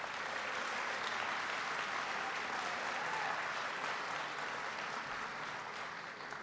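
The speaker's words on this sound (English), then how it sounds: "Please give her a big round of applause." A crowd applauds steadily for Karen Mills, the small business administrator, at a presidential event in Western New York, with dense, sustained clapping at an even loudness that eases slightly toward the end.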